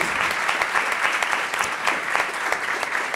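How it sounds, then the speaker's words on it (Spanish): Audience at an animation industry conference applauding, dense continuous clapping that stays loud and even for several seconds. "un aplauso para Álvaro, que lo ha hecho muy bien, y para el trabajo de AMPA."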